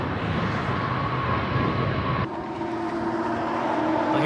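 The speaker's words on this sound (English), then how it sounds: "Another train coming through." A train rumbles past nearby, a loud continuous roar and clatter that shifts partway through into a lighter, steady rolling hum.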